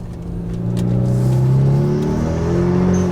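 A 2016 Kia Forte running on E85 revs loudly up close, its engine note climbing and holding in a steady droning whir for a few seconds, with no voices over it.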